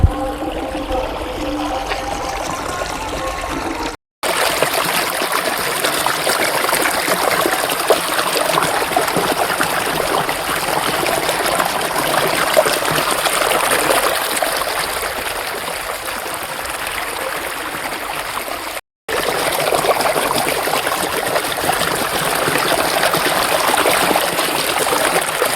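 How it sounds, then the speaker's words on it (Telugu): Water flowing steadily at Mukkoti temple, a continuous rushing stream sound that stays close and fairly loud throughout, broken by two brief dropouts, with no talking over it. "చూడండి ఫ్రెండ్స్, నీళ్ళు చూడండి ఫ్రెండ్స్,"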